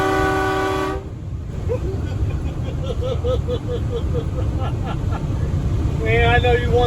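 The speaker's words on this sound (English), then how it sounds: "I don't really use the train horns a whole lot unless it's a panic situation" A Kenworth T800 wrecker truck sounds its horn, a steady chord of stacked tones that cuts off after about a second. Engine rumble and cab noise carry on beneath, and later, shorter tones rise in the cab.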